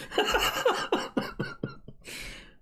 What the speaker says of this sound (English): Excuse me, that made me cough.